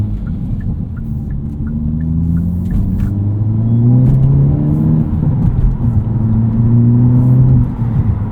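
A 2022 Hyundai Elantra N engine with a six-speed manual transmission rumbles steadily, revs climbing and dropping through gear changes, with a deep throaty tone close by and no talking.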